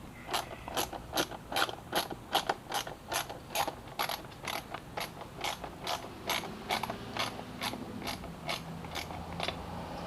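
A hand ratchet tightening nylon nuts on a motorcycle tail light, a steady run of close, crisp clicks in quick regular strokes, pausing briefly partway then continuing at a slightly slower pace.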